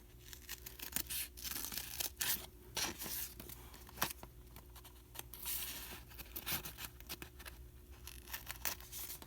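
Craft stencil material is cut in short bursts of sharp snipping and tearing, close and fairly quiet, with irregular pauses between cuts and faint handling rustle.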